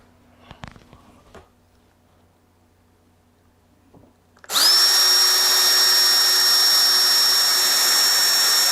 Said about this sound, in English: we're going to drill a pilot hole before we put in our screw on the side here